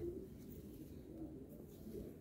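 Racing pigeons at a large loft coo softly in a low, continuous murmur of overlapping throaty calls, faint and steady throughout.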